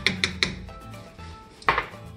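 A spoon knocking against a pot while beef base is stirred into French onion soup, three quick clacks, a soft scraping lull, then a louder pair of taps, close up with no talking.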